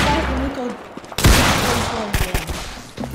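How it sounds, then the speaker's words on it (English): Bursts of rapid gunfire crackle in the Roblox shooter Arsenal, loud and close, with a sharp heavy blast partway through and scattered shots after, while players' voices talk over the action. "Stop shooting!"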